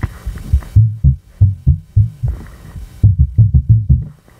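Pitch-bent sample played on a Roland SP-404MKII sampler, a series of deep, throbbing low thumps in uneven rhythm with a brief pause midway, loud and close with no talking.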